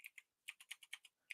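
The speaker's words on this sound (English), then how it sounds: "I'm just typing letters in because I have no idea." Typing letters on a computer keyboard, about nine crisp, close keystrokes in an uneven quick rhythm with short pauses, quiet and alone.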